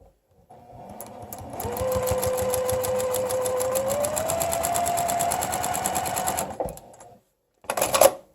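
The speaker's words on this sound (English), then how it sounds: "we're going to stitch that 1/4 of an inch" A sewing machine stitching a quarter-inch seam in quilting fabric, running in a steady, close, rapid mechanical whir for about five seconds, then stopping, followed by a short second burst of stitching.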